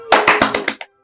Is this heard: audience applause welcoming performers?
yes